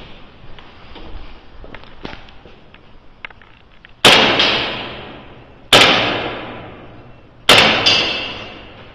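Three sharp, loud gas blowback shots from a KJW M1911A1 airsoft pistol fired at a target 20 meters away, spaced about two seconds apart, each with a crisp crack and a short decaying tail after quieter handling noises.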